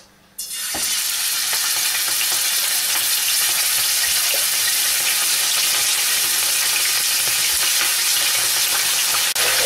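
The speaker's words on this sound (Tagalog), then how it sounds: "So, i-stir fry lang natin yung ating beef." Beef stir-frying in hot cooking oil in a pan: a loud, steady, close sizzle that starts abruptly and then holds a dense crackle, with occasional pops and stirring clatter.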